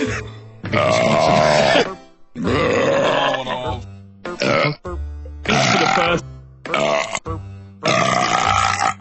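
Loud, drawn-out burps repeated about six times in succession, each a long guttural belch with short pauses between, close and alone without talk.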